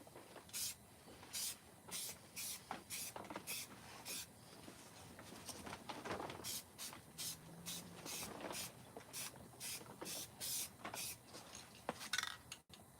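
Short bursts of black spray paint hissing from a can onto a chainsaw-carved bear, repeated rapid sprays in an uneven rhythm, close and fairly quiet.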